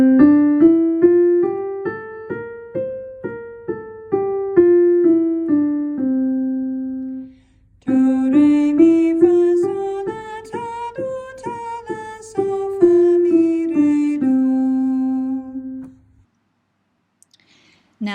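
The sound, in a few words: Mixolydian scale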